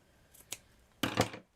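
Scissors cut through sock fabric for a doll's thumb. Two light snips come first, then a louder, longer double crunch of the blades closing. The sound is close and quiet, with no voice.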